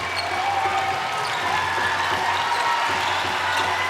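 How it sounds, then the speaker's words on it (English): Applause and crowd noise ring out for a netball player leaving the court at a Zimbabwe v Sri Lanka World Cup match, a steady wash of clapping in a large arena, moderately loud and unbroken. "Warm applause for Ursula Lovu, who's been brilliant in this match"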